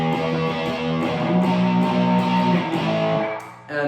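An electric guitar with a distorted tone plays the first two notes of a song. The notes ring loud and sustained with a gritty edge, close up, and cut off abruptly just before the end.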